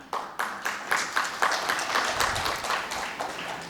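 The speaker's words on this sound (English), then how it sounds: "if those were the teachers clapping" An education conclave audience applauds teachers, opening with several distinct rhythmic claps that quickly merge into a fuller, sustained round of clapping from the crowd.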